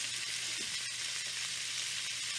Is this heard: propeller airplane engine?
no